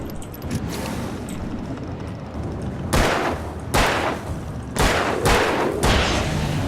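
Several loud gunshots ring out in the Alan Wake video game, with four sharp blasts spaced about a second apart over a dark, rumbling ambient background.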